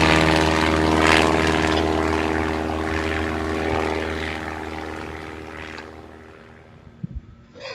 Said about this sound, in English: The engines are roaring and they're beginning to leave the tarmac.